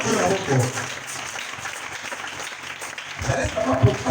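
Congregation applauding at a French-language church service, a steady wash of clapping that swells near the start and again toward the end, with voices mixed into the crowd noise.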